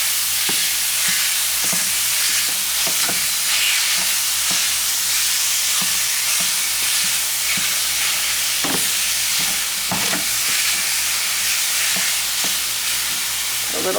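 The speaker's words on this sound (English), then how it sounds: "give this meat a good mash" Lean ground meat sizzles and fries loudly in a pan while a meat masher breaks it up, giving a steady close hiss with scattered scraping and stirring knocks throughout and no talking.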